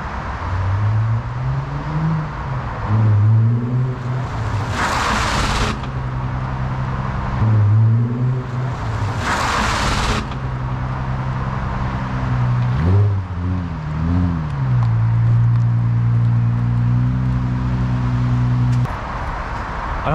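A Nissan 350Z on a short test drive after a brake install, its engine droning with rising and falling revs through gear changes, loud and near, with a couple of bursts of rushing wind or exhaust noise.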